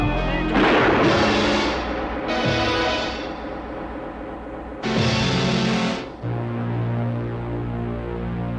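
Heavy booming gunshots ring out in a few loud separated bursts, each with a long rumbling tail, amid a dramatic scene with no speech.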